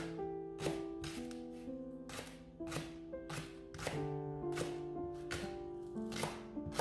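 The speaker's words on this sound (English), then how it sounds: "The next thing we're going to do is finely slice our spring onion." A knife finely slicing spring onion on a board, a quick, even series of crisp chopping taps over a steady hum of sustained background tones.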